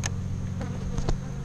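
Faint, steady buzzing of honey bees at a hive close by, with a few louder passes as individual insects fly near.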